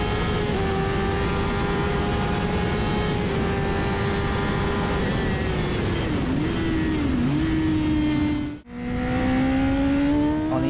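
A Honda CBR1000RR superbike screams at high revs on the Brands Hatch circuit while overtaking a Ferrari out of Clearways onto the Brabham Straight. The engine whine holds loud and steady, then dips briefly with a gear change and climbs again.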